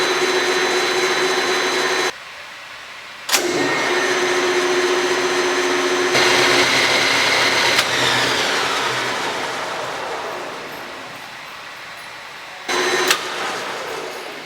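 A metal lathe with a mechanical lever setup and quick-change gearbox starts up and runs with a steady, loud machine hum and whine, a few sharp clunks of the controls marking changes in its running.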